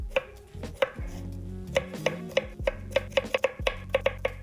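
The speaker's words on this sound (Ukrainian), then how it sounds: "нарізаю дрібними кубиками" Knife chopping cucumber on a cutting board: a rapid, irregular series of sharp, close taps, loud and clear with no talking.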